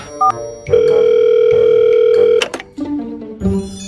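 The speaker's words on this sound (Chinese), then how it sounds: "我现在打电话约他" A steady telephone dial tone holds for about two seconds while a call is placed, preceded by short beeps and followed by clattering handset noises and a faint hum.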